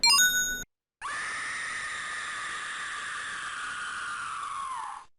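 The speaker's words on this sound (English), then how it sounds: "Why does Knuckles make such a girly scream?" Knuckles in the Sonic.EXE game lets out a long, high, sustained scream that holds steady for several seconds before trailing off, preceded by a short tonal chime.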